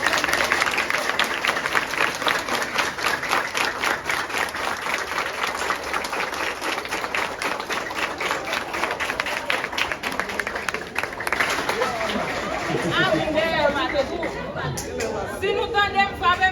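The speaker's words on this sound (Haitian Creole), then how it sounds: "applaudis magistrat." A crowd of parents and pupils at a communal school claps steadily to applaud a visiting magistrate, a dense, sustained patter of hands with chatter and voices mixed in throughout.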